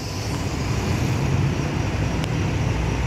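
A Scania K410 bus passes on a road with a steady, loud engine and tyre rumble close by, traffic noise around and no voices.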